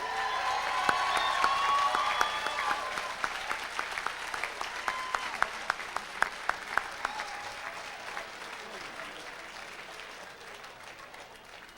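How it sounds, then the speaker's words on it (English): Commencement crowd honoring graduates claps loudly at first, then thins into scattered distinct hand claps that fade over roughly twelve seconds in a large, reverberant hall. "Let's give another round of applause for our undergraduate degree."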